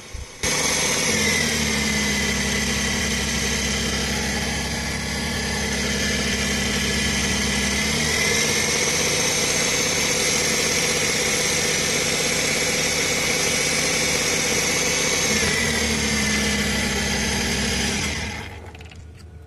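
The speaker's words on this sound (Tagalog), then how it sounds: "Ang problema diyan grabe kapusog ang iyang minor mga idol." A Suzuki K6A non-turbo engine in a DA64V van idles too high, giving a loud, steady drone that holds for most of the time and rises and dips slightly in pitch before fading near the end.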